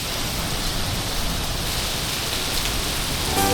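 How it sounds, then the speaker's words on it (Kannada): Heavy rain pours steadily and loudly, a dense continuous hiss of drops close by with no voices. "ಮಳೆ ಸ್ಟಾರ್ಟ್ ಆಗ್ಬಿಟ್ಟಿತ್ತು ನಮ್ಮ ಬರೋಷ್ಟಲ್ಲಿಗೆ"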